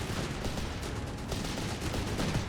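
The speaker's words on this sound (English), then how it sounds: "Guns blasting away through the smoke" Gunfire in Company of Heroes 3 rolls as a dense, continuous rumble of distant shots and explosions blending into a steady battlefield roar.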